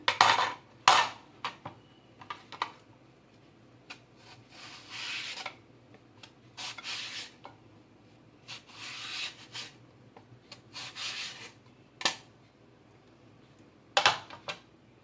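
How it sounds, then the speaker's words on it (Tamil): Raw plantain is cut into thick slices on a vegetable slicer, giving close, rhythmic scraping rasps in short bursts separated by quiet pauses. "இப்போ இது பார்த்தீங்கன்னா வாழைக்காய் ஸ்லைசர் மாட்டியிருக்கேன்"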